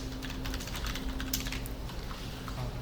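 Rapid typing on a computer keyboard while coding in Kotlin, with a steady patter of key clicks and a couple of sharper strokes, close-up with no speech over it.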